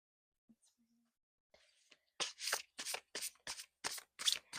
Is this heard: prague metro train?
no